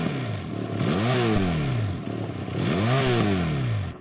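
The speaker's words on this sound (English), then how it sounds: "I even know where they got the engine from, because it sounds exactly like the BMW F800R" A motorcycle engine idles and revs twice, rising and falling in pitch with each throttle blip, running close by and alone; its sound resembles that of a BMW F800R parallel twin.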